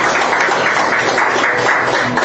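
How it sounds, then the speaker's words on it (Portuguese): A congregation claps for Jesus during a church service, a steady, dense wash of applause with no spoken voices. "Palmas para Jesus."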